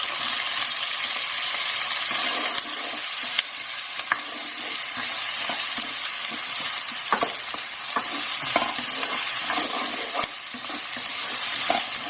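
Onions sauté in a pan with green chillies for an Indian eggplant curry, a continuous hiss of frying broken by frequent clinks and scrapes of a spoon stirring, close and without talk.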